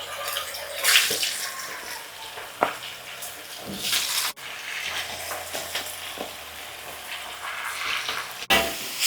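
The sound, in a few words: chicken frying in oil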